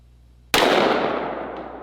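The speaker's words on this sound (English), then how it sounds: "This is a Smith & Wesson Combat Magnum 44 Magnum with a 3-inch barrel, and I have some Underwood ammo, 340 grain 44 Magnum plus P" A Smith & Wesson Combat Magnum .44 Magnum revolver with a 3-inch barrel fires a single shot of Underwood 340-grain +P ammunition, a sharp, loud close blast that rings out into a long decaying tail.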